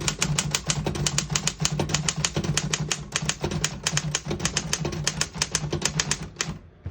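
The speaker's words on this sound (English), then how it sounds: "Very nice typing machine." A 1949 Royal KMG desktop typewriter types rapidly and steadily, its dense run of sharp key strikes close and alone with no voices.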